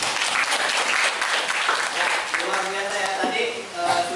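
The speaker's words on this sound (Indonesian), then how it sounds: "tepuk tangan buat data." A classroom of students claps in a loud burst of applause that gradually thins out, with voices chattering and calling out as it fades.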